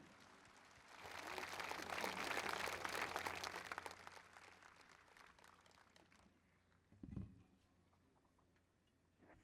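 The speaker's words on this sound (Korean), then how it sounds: "큰 박수로 맞아주시기 바랍니다" A quiet crowd applauds at the 65th anniversary Incheon Landing victory ceremony, welcoming the former seventh chief of staff of the navy; the clapping swells for a few seconds, then thins and fades, with one brief low thump near the end.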